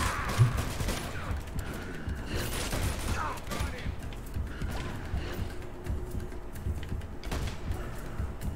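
Gunfire in Uncharted 2: Among Thieves, with bursts of shots popping over a dense, busy background of action and mechanical noise, steady and mid-distance, with some talk mixed in.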